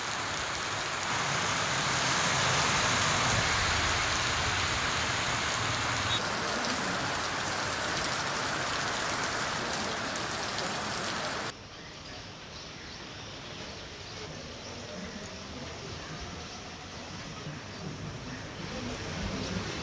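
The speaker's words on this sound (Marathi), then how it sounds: "जोरदार पाऊस सुरू आहे" Heavy rain pouring down in Maharashtra, a dense continuous hiss of drops on surfaces that holds steady throughout, loud and unbroken with no voices.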